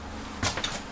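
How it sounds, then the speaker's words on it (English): A small bonus drawer for flip-flops slides open in the kitchen of a 2019 Grand Design Transcend 30MKS travel trailer, a single short rolling scrape followed by a light knock, close and moderately loud with no talking. "Nice little bonus drawer down here for flip-flops"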